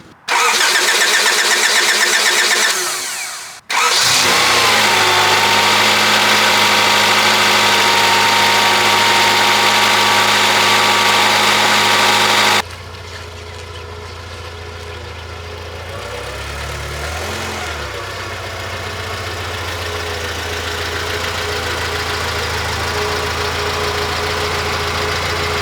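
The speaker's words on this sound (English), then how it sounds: "So the Prelude started up pretty easily there, and I mean, it did have a high idle, and it doesn't exactly sound the best as of right now." A Honda Prelude engine cranks briefly, catches and roars up to a loud, fast high idle that holds for several seconds, then drops to a quieter, steadier idle that gradually climbs again, with no voices.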